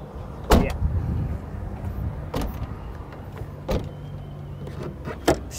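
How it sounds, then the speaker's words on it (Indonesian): Hood of an AMG-tuned Mercedes being opened up close: a few sharp knocks and clunks from the latch and panel, spaced over several seconds, with no talk. "Kita buka kap mesinnya ya."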